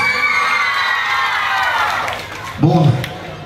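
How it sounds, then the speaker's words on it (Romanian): Large outdoor festival crowd at a town-days concert cheers and shouts in a sustained roar with scattered applause, loud and dense, before a voice speaks over it near the end. "Aplauze pentru voi de aici."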